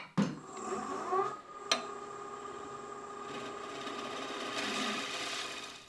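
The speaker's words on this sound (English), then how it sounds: "I'm going to use my scraper and get that tip out of the bottom." A lathe scraper cutting the inside bottom of a natural edge burl wood bowl, giving a steady whirring scrape with a couple of sharp catches early on and the spinning lathe droning underneath, close by.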